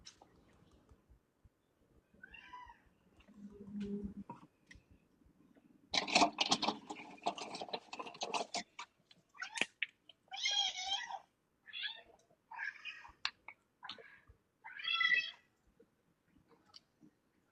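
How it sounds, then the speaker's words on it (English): A cat meows repeatedly, with several separate drawn-out calls spaced a second or two apart. The calls sound close and clear in an otherwise quiet room, with a few soft clicks and rustles between them. "Is that a cat?"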